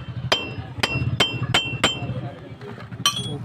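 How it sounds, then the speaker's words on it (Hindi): A hammer strikes a steel punch to seat an oil seal on the rear axle of a Tata Ace mini truck, five sharp metallic clinks in a steady rhythm followed by a final ring after a pause, close up over low background noise. "सेल भी बैठ गया, पंच को मारना पड़ेगा।"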